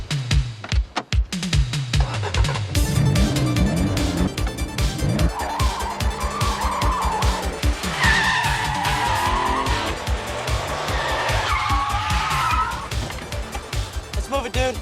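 A car in a film scene skids with squealing tires and a roaring engine, loud and continuous throughout, with music and brief talk mixed in.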